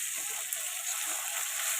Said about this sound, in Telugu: అల్లం వెల్లుల్లి పేస్ట్ కూడా ఫ్రై అయిపోయిందండి